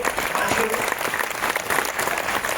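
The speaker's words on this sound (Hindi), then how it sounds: "ताली बजाइए" An audience at a business talk claps in a loud, dense burst of applause that carries unbroken for a few seconds, with a voice faintly mixed in beneath the clapping.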